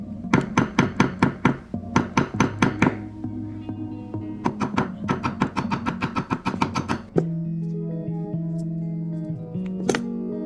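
A hammer forging a small metal hinge for handmade hoop earrings, with quick bursts of bright ringing metallic taps in rhythmic runs, close and loud, separated by brief pauses and then a sustained ringing tone near the end.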